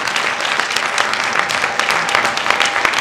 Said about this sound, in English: You have to clap.